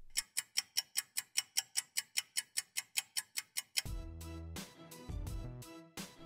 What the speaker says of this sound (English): When gears on a clock move, a sound is produced.